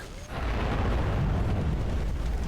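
Buildings explode in StarCraft 2 as a base is destroyed, giving a loud, sustained rumbling blast that swells quickly and roars on with dense crackling and no pause.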